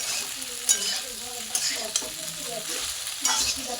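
A fried egg being stirred with onions in a frying pan, a steady sizzle broken by several distinct scraping strokes, close and without talk.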